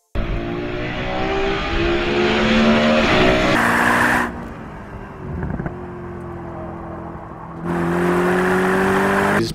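A Mercedes-Benz SLS AMG Black Series with its 622-horsepower, naturally aspirated 6.2-litre V8 roars loudly and close by, its engine note climbing and falling through revs with brief lulls between bursts.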